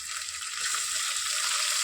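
Food frying steadily in a pan for a pulao and mutton curry, a continuous bright sizzle holding close and even throughout with no talking.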